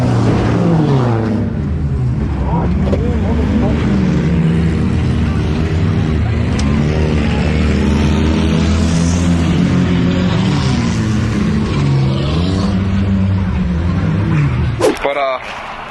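Race car engine running hard in footage from a race where the car performed badly, a loud sustained roar with shifting pitch that rises and falls throughout, with people talking over it.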